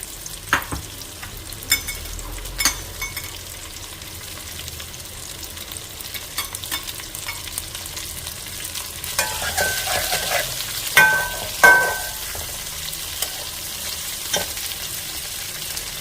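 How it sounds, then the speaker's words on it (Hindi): Okra fries in hot cooking oil in a pan, a steady close sizzle running throughout with occasional stirring scrapes and soft clanks of a spoon against the pot. "थोड़ा सा गर्म हो गया है तो अब इसमें हम भिंडी डाल देंगे।"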